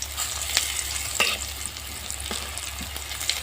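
Tomato and egg snacks fry in hot oil in a wok with a close, constant sizzle, broken by a few sharp crackles and pops as the pieces are turned. No one speaks.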